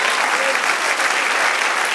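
Church congregation applauding for the Lord during a sermon, a steady, dense wash of many hands clapping that holds loud and even for the whole stretch, with no voices on top.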